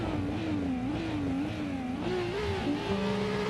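A BMW drift car's engine revs hard during a drift competition run, the loud wavering note climbing and dipping as the driver initiates with an e-brake pull and gets back on throttle.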